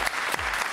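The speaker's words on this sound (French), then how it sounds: "Et on l'applaudit très fort." A short burst of audience applause for a contestant at a televised talent show, dense clapping from a studio crowd.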